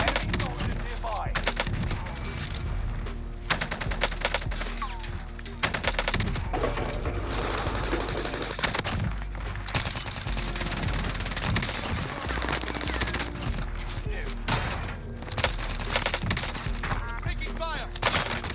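Rapid automatic gunfire and bursts of shots in the Call of Duty Warzone video game, using the Cold War AK and Milano, sustained and loud across the whole stretch with faint voice lines mixed in.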